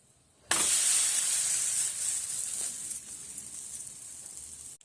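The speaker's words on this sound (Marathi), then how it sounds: "अशा प्रकारे खमंग असं आपल्याला हे थालीपीठ भाजून घ्यायचं आहे" A thalipeeth flatbread roasting on a hot griddle starts with a sudden loud hiss of steam that holds, then slowly fades and turns to softer crackles before cutting off.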